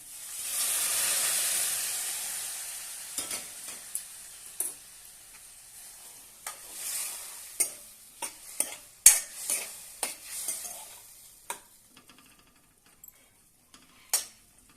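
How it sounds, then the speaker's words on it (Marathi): Boiled drumsticks are tipped into a hot pan and start frying with a loud initial sizzle that fades to a quieter hiss, while a spoon repeatedly clinks and scrapes as it stirs, close and without speech. "आता यामध्ये आपण शेंगा उकडून घेतलेल्या आहेत ते घालूया"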